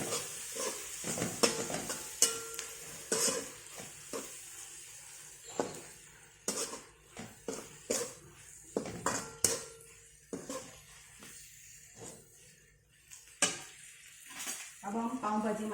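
Pav bhaji mixture is stirred with a spoon in a pan, producing a series of irregular scrapes, clinks of metal on the pan and soft sizzling, close and fairly quiet with pauses between strokes.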